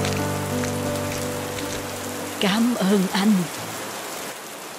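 Cold rain falls at night in an animated Vietnamese fairy tale, a steady hiss of downpour running throughout while a voice speaks briefly over it.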